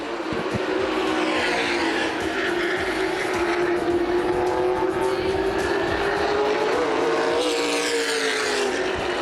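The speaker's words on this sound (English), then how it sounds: "KC Spillers trying to get another run as they head through corners number 3 and 4" CRA late model sportsman stock cars racing at Winchester Speedway, a loud sustained engine roar whose pitch rises and falls as cars pass through the corners, with a commentator talking over it.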